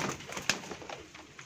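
A Teddy pigeon coos softly among other birds, faint and brief against a busy, noisy background.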